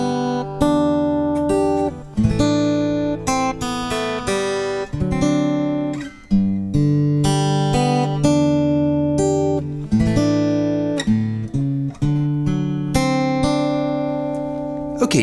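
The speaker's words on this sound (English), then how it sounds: "It's gonna look and sound like this, starting with some chord melody" An acoustic guitar plays a chord melody, ringing strummed chords with a tune on top, steady and clear with brief gaps between phrases.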